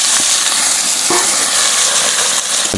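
Pork frying in a hot pan gives a loud, steady sizzling hiss that runs without a break, close up, with a few faint clicks underneath.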